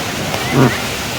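Steady rushing water of a waterfall at a water park fills the whole clip, a constant broadband roar with a brief murmur of a voice partway through.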